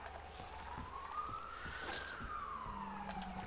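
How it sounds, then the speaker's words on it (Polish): A fire engine siren wails in a rising then falling sweep as it passes, with low traffic rumble and scattered thumps underneath. "Jeszcze straż pożarna jedzie."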